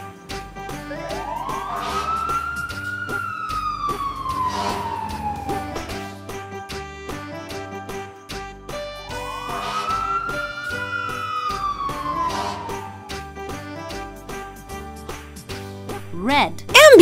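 A fire engine siren wails in two long rising and falling sweeps, loud and close over a steady backing melody, ending with a short bright burst.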